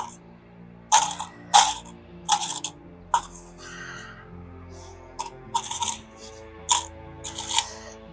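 Keys being hung on a key holder, a series of sharp metallic jingles and clinks in irregular bursts, close and crisp against a quiet background.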